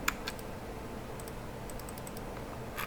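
Faint, quick computer mouse clicks come in a rapid cluster of three while working in SketchUp. A few more light clicks follow near the end against quiet room noise.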